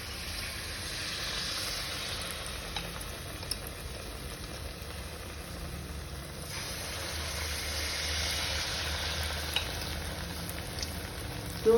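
Malpua batter sizzling and frying in hot vegetable oil in a heavy-bottomed frying pan, a steady dense crackle that continues throughout with no talking.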